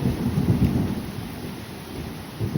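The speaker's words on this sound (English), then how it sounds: "Man, this rain is coming hard." Thunderstorm in Manchester, New Hampshire, with heavy rain hissing steadily while a low, rolling thunder rumble swells and fades.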